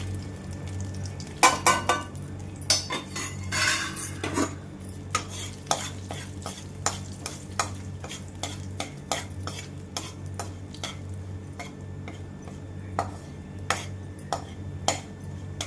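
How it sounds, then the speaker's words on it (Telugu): Tempering seeds with turmeric and a pinch of asafoetida fry gently in a pan for sabudana khichdi as a spoon scrapes and clinks against the metal in irregular strokes over a steady low hum. "అన్ని సిమ్లోనే పెట్టుకొని వేయించుకోండి. తిరగమాత వేగిపోయిందండి."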